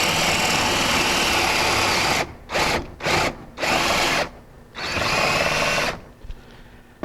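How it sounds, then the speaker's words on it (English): Power drill boring a hole into wooden railing stock, the whine running steadily, then several short bursts as the trigger is pulsed, followed by a longer final run before stopping. "We're going to go ahead and drill another hole"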